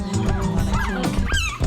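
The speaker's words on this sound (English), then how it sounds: "I got to see her new little puppies." Newborn puppies whimper and yip in short, high, wavering cries, close by and fairly loud, overlapping one another for a moment.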